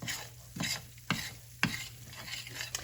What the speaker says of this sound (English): When it starts really sizzling good and cooking, I don't really turn the heat down a whole lot.